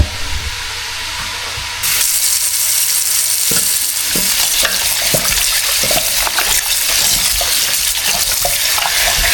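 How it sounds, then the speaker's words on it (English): Onion frying in a pot for lamb and taro stew, a loud dense sizzle that swells after a quieter opening, with scattered pops and crackles and no voices. "While our onion is cooking"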